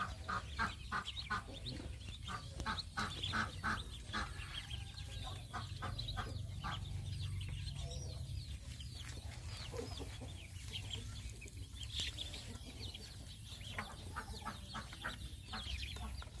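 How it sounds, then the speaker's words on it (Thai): Dense chorus of high, rapid peeping and cheeping from many newly hatched ducklings, continuous and close, with a low steady hum underneath. "ลูกเป็ดอี้เหลียงนะครับที่เราฟักในช่วงนี้นะคะ"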